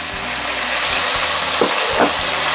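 Jengki anchovies (ikan teri) fry in oil over a low flame, giving a steady, close, hissing sizzle with a couple of faint stirring scrapes.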